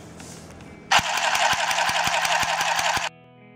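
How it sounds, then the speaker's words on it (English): A small handheld cordless sewing machine whirs to life with a rapid mechanical clatter, running steadily for about two seconds and then stopping abruptly. "The handheld sewing machine, which is portable and cordless."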